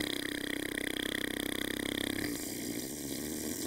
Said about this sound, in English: I'm gonna punctuate it with an extended fart sound